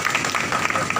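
A crowd claps in welcome at a martyr's day ceremony honouring Gulab Singh Lodhi, producing a steady patter of hands under a speaking voice.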